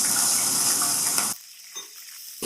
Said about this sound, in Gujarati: પછી આમાં અડધીથી પોણી વાટકી પાણી ઉમેરવાનું